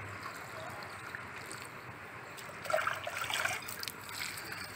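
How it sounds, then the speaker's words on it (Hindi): Water is poured around the edges of a large potted plant, a soft trickling and splashing that swells midway through and settles back over a low, steady background. "ऐसे ऐसे हम साइड में इसके बहुत अच्छे से पानी डाल देंगे।"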